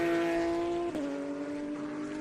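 A GT race car roars past at Sebring during a feature race, its loud, tonal engine note dropping sharply in pitch as it passes close by and then droning on as it moves away.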